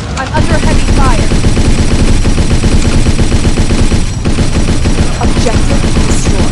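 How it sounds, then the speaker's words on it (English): Sustained heavy automatic gunfire in the video game Battlefield, a loud, dense stream of rapid shots with brief breaks near the end, close and continuous. "Incoming! I'm under heavy fire."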